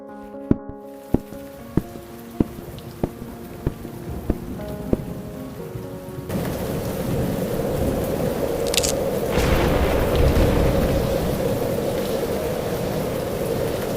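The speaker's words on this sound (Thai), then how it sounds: "พอตกเย็นทั้งลมและฝนก็ยิ่งรุนแรงขึ้นเรื่อย ๆ" Soft plucked musical notes with light taps give way to a steady, heavy roar of thunderstorm rain, with wind, that fills the rest of the clip.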